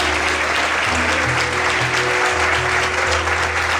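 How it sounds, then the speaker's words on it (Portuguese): A church congregation applauds during a morning service, continuous steady clapping over a low sustained musical hum with shifting bass notes underneath. "Será que você pode aplaudir o Senhor nesta manhã?"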